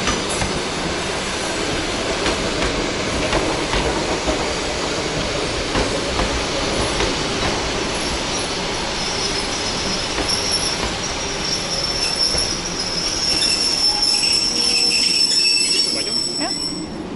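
A Russian commuter train pulls away from the platform. Heard from on board, it gives a continuous loud rumble with wheel squeal and rattling clatter that runs steadily throughout, and faint voices sit underneath.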